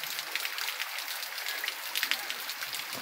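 Steady rain falling on surfaces in the Sertão of Pernambuco, Brazil, a dense hiss of drops with occasional louder spatters, continuous throughout.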